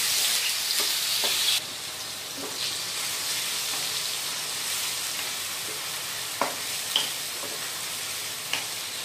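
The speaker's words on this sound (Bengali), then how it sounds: "তো আমাদের পেঁয়াজ কিন্তু ভাজা হয়ে গেছে।" Onion paste made from two large onions fries in a pan for chicken rezala, giving a steady, loud sizzle throughout with occasional clicks from stirring and no talking.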